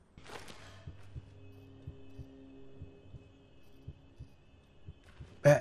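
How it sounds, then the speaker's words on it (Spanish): A heartbeat in the video game Amnesia: The Bunker thuds in a steady low rhythm beneath a dark droning hum, with a short noisy burst at the start and another at the very end. "Sonido del latido."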